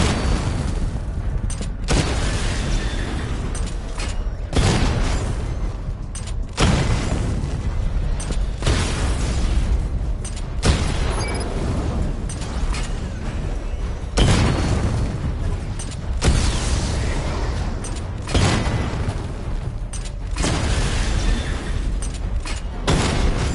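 Missile barrage in a video game: a long run of heavy, booming explosions bursting one after another at a steady, relentless rhythm, loud and close, with rumbling mechanical noise between impacts.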